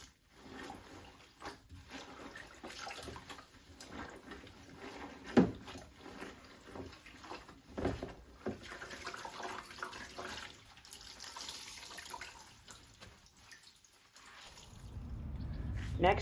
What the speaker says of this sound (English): give the fabric a good rinse